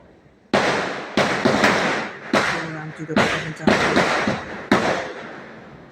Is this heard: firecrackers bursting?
yes